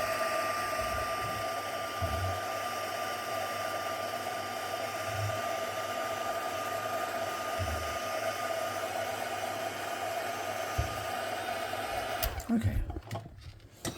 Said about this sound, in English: I'm just going to quickly give it a bit of a blast of heat